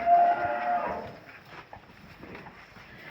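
A dairy cow that yields over 38 litres of milk, up for sale, lets out a single deep moo at the start that fades into quieter shuffling and background noise.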